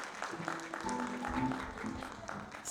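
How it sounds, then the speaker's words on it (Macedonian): Applause rises from the audience at a closing recital of the Menada ballet studio in Tetovo, a steady wash of clapping that lasts throughout, with faint tonal background sounds beneath. "Аплауз!"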